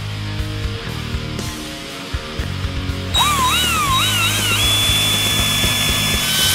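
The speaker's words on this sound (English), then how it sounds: "Now we're going to drill a quarter inch hole in the plate in the back of the gas cap." A power drill boring a quarter inch hole into the metal plate on the back of a 1965-1973 Mustang gas cap, a steady close whine that rises in pitch as the bit spins up and keeps running.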